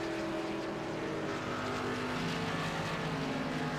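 A race car rolls slowly onto pit road during a 63-lap race, its engine a steady broad drone that holds at a constant level throughout, with no voices.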